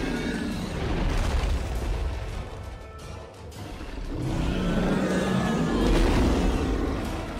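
Dead Space 3 combat: heavy booming blasts and gunfire rumble through a dense, churning mix, swelling and fading as a boss fight plays out, with a voice speaking faintly now and then.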